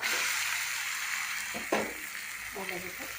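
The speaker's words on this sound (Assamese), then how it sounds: "এতিয়া মাংসখিনি ইয়াতে দি দিছোঁ, মেৰিনেট কৰা মাংসখিনি ধুনীয়াকৈ" Marinated chicken sizzles steadily as it fries in hot oil with masala and onions, with a louder hiss burst and a few stirring scrapes partway through.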